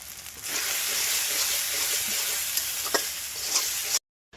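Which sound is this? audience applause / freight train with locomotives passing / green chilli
green chilli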